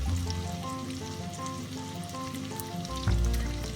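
Food sizzles and fries in a cheap cast iron pan on a kitchen stove, a steady hiss with crackle that swells slightly near the end, heard alone with no voices and with some background music.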